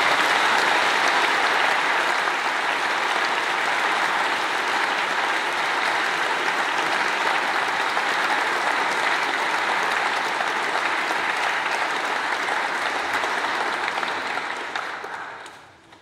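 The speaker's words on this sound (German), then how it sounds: "Die kriegen jetzt einmal einen Applaus" Sustained applause from a large church congregation at a farewell Mass, dense and steady clapping that carries on for a long stretch before fading out at the very end.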